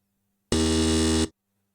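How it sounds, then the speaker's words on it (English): A game show contestant's buzzer sounding once in a test, a loud harsh sustained electronic tone lasting under a second, cut off abruptly, with silence on both sides. "And, RPG, can you give me your buzzer?"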